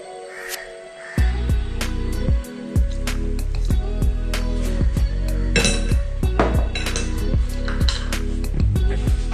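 A whisk beats jackfruit cake batter with sunflower oil and essence in a bowl, making rapid, steady metallic clinks against the bowl that ring out loud and close, one after another.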